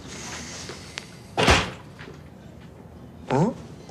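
Office door pushed shut with a solid thump, followed moments later by a second knock-like thud, under faint background room tone.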